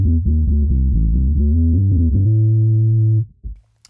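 A guitar runs through a Quad Cortex capture of a Boss OC2 with the second octave cranked, producing a growly, synth-like low riff of quick repeated notes that ends on a held note, then goes quiet.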